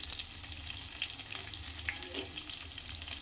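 Cashew pieces and onions fry in hot oil in a pan, giving a dense, close crackling sizzle with stirring scrapes and occasional sharper pops, continuous for a few seconds with no voices.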